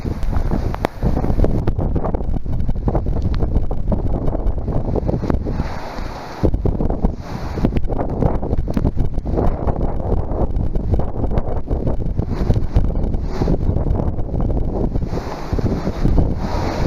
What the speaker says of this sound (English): you can really start to feel the wind now